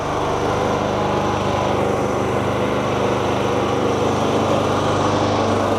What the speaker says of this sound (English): It's a really well-built generator.